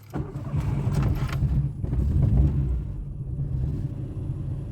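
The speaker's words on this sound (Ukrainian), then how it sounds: "ну пробуємо заводимо, покатаємося" A VAZ 2115 injection car engine cranks and catches, its low rumble starting abruptly and settling into a steady idle close by, with no talking.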